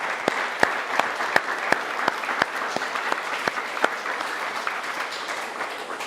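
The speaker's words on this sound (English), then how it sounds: "we'll give them a round of applause as well" Applause breaks out at an annual award presentation day, distinct sharp claps rising early and then settling into a softer, steady patter from a modest audience.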